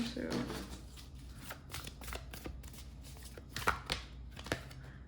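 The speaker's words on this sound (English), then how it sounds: "Let's go ahead and shuffle this one too." A Sacred Destiny Oracle card deck being shuffled by hand, with soft riffling and tapping that flares into a few sharper card slaps near the end; a voice speaks briefly at the start.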